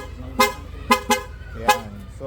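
A Corsa horn fitted to a Yamaha NMAX V1 scooter sounds in four short, loud honks, two close together in the middle, with a low idle hum between blasts.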